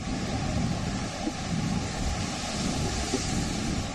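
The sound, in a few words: high ocean waves in Tropical Storm Elsa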